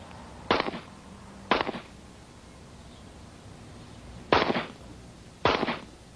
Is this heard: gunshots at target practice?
yes